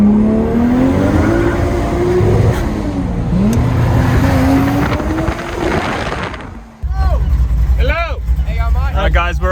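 A car fitted with a new Barra EF exhaust drives off with a loud, rising engine drone and gear changes, then cuts to close, punchy revving bursts.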